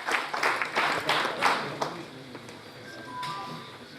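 An audience claps at the inauguration ceremony for an Urdu real estate book, a short burst of applause that dies away after about two seconds into a quieter hall.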